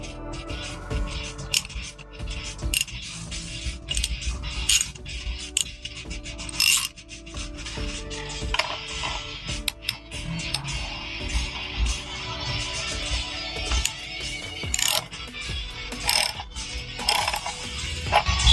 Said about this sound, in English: we'll be able to put a nut on top of it and tighten it down